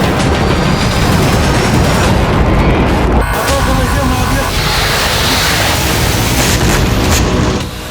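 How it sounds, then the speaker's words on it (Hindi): Explosions during a night attack on Lviv in war news footage: a dense, continuous roar of booming blasts and rumble, loud throughout with a sharp crack near the middle. "धमाके इतने जबरदस्त थे कि पूरे शहर"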